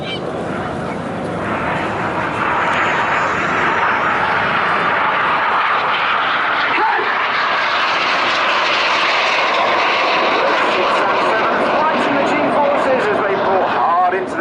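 Display jet roaring overhead at the Bournemouth Air Festival, a loud sustained engine rush that swells and holds as it passes, with crowd and commentary murmuring beneath.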